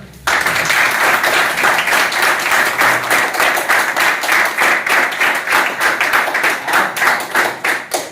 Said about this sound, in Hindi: क्या बच्चे के लिए इतनी सी तालियां?